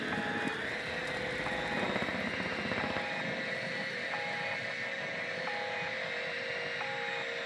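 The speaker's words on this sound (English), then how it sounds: "Bomb drone ready for detonation." A bomb drone in a video game flies with a steady, buzzing rotor drone at an even level throughout, accompanied by faint intermittent electronic tones and no talk.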